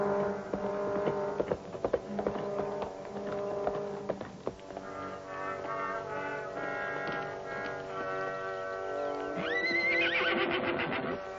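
Horses on a ranch snort and whinny, with hooves clattering early on and a loud, rising neigh near the end, all without talk.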